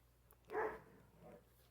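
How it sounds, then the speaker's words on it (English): A single short puppy bark, fairly faint, followed by a softer yelp, with a low steady hum underneath. "I have a puppy that makes a lot of noise."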